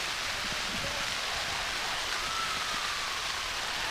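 Steady rain pours down at an outdoor Veterans Day parade in Birmingham, Alabama, a broad continuous hiss filling the scene with no clear voices.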